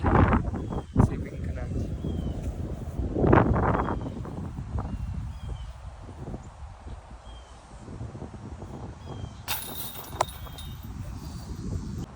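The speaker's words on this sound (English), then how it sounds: "This wind is blowing." Gusty wind buffets the microphone on the West Delray Regional Park disc golf course, a steady low roar with stronger bursts, while someone talks over it.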